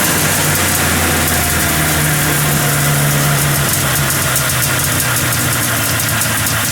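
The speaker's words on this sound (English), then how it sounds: "Engine in. Engine running." A Safari 503 diesel engine runs steadily at idle, loud and close, with a rough knocking throb and a constant low hum for several seconds, no voices.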